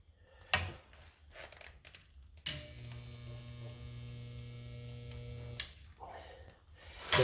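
A spot welder fusing a metal body panel gives a steady electrical buzz lasting about three seconds, framed by brief clanks and handling knocks before and after.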